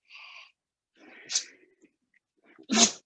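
Two sharp sneezes, the second louder, separated by a brief breathy gasp and near silence.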